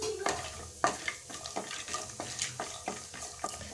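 Peanuts fry with mustard seeds in a hot pan, with a steady sizzle under repeated rhythmic scrapes of a spoon stirring close by.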